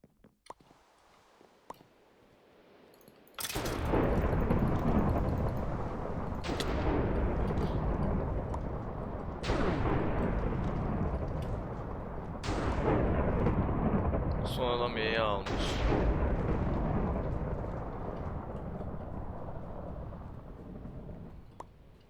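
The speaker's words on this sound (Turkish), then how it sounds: "Çünkü şimşekler çekecek şimdi." Loud thunder and lightning strikes in Minecraft's Hypixel Murder Mystery arrive as sudden booming cracks, several in a row, each decaying into a long rumble, with a player talking intermittently.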